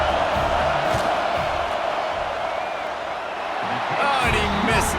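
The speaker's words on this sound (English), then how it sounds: "This crowd trying to do its part to get inside the kicker's head" Stadium crowd in the college football video game NCAA 26 at a Texas A&M versus Tennessee matchup, a loud sustained roar of cheering and yelling aimed at the kicker before a field goal, dipping slightly mid-clip and then surging again.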